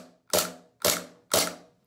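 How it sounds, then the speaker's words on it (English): Three evenly spaced, crisp mechanical clacks from an airsoft gas blowback pistol dry firing, each a close metallic snap of the slide cycling with no shot behind it, with no voices. "I believe my pistol is dry firing"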